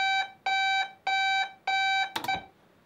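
Repeated electronic beep from a DJI Mavic Pro drone, looped as a bass line: four identical bright tonal bleeps in a steady rhythm, closing with a short burst of clicky noise, no voices.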